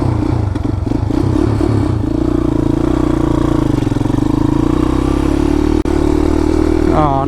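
Dirt bike engine running steadily on dirt with a smooth throttle, a loud close drone under a voice, with clattery knocks early on and a brief rise near the end.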